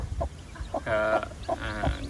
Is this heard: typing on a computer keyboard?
no